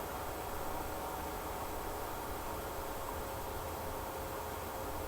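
Steady white noise hisses from the Echovox app running on a tablet, a constant broadband wash at moderate level with no voices, ending in a brief click.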